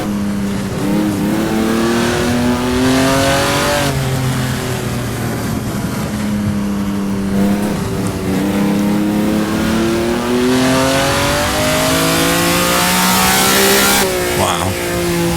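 Racing car engine screaming around the Targa Florio road course in Assetto Corsa, revving up and down through gear changes and corners in a loud, continuous run with rising and falling pitch.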